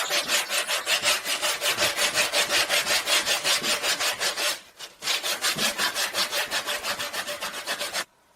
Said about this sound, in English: we need to clean up these parts where there is rust or some stains left by our working hoops a bit with sandpaper